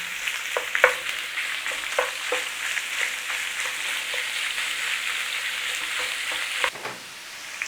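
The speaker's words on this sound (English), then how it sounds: "We're going to cook the beef off and then mix in with the onions." Minced beef fries with onions in a pan, giving a loud, steady sizzle close by. Occasional stirring clicks come through before the hiss briefly drops near the end.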